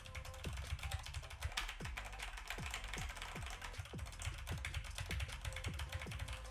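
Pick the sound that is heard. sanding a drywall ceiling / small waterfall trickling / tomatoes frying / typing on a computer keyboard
typing on a computer keyboard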